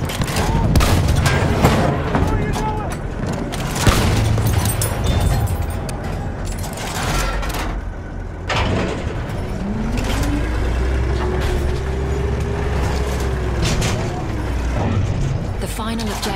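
Tank in a video game rumbling along with a heavy engine drone, firing repeated booming shots over mechanical clatter and gunfire, with voices talking over the battle.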